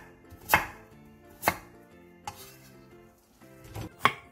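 A knife chops a third of a radish, quartered lengthwise, into 1 to 1.5 cm thick pieces, making four distinct, close thuds on a cutting board at irregular intervals.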